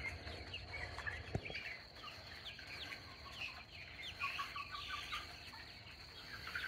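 Guinea fowl and chickens cluck softly at a farmyard feeding spot, with scattered, fairly faint calls over quiet outdoor background noise.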